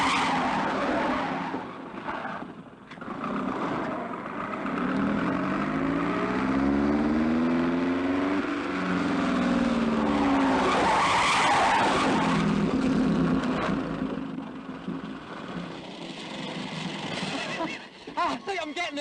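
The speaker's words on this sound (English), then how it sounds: "Always turn into the skid and then just touch your brakes" A car skids with long, loud tyre squeal over a roaring engine that rises and falls for almost the whole stretch. People talk over the noise.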